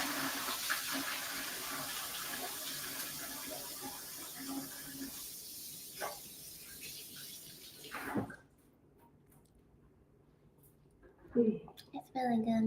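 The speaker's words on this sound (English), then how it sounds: "I'm just going to wash my hands for a second" A kitchen tap runs steadily as hands are washed while preparing a Halloween cake, a broad continuous hiss for the first eight seconds that then cuts off, with brief voices and clatter near the end.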